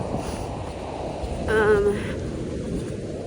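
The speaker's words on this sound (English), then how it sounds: "Okay, it's really raining now. And it's windy." Steady rain and gusting wind outdoors, a constant broad rushing hiss with a brief swell midway.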